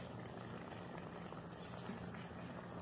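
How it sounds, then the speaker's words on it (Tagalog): Chicken boils in a pot, a steady bubbling, hissing roar of liquid at a rolling boil, continuous and close, with no voices. "Kumukulo na siya."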